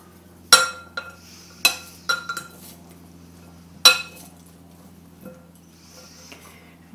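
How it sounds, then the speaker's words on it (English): Corn salad with cheese and basil being mixed in a bowl, a utensil clinking against the bowl in several sharp, spaced knocks with quiet rustling between, close and without talk. "So I'm going to mix all this up."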